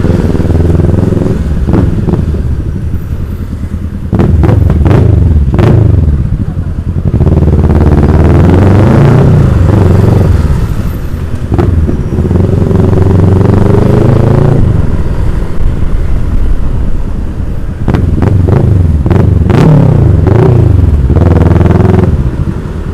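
Kawasaki Ninja 650 motorcycle with a loud aftermarket exhaust in slow city traffic, its engine rumbling steadily and revving up in repeated bursts, close and loud throughout with no voices.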